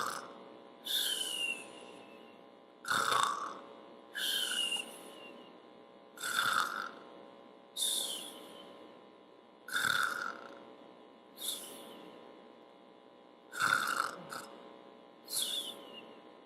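A person imitates snoring with about nine rasping, throaty breaths. They come at a steady rhythm, roughly one every two seconds, close and clear with short pauses between them.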